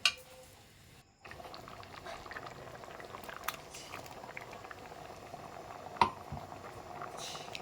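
Ground coconut paste goes into a spicy karamani and ivy gourd kara kuzhambu curry as it comes to a boil. Soft, quiet bubbling and simmering continue throughout, with one faint clink partway through and no talking.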